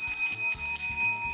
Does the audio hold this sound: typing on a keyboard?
no